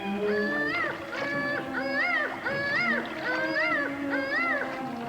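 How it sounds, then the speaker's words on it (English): Warbling, sweeping calls from the gill-man creature of the Black Lagoon in a 1954 monster film, a steady run of rising and falling cries repeating about once a second over a continuous low background, loud and close, with no talk. "That's definitely the creature making a noise."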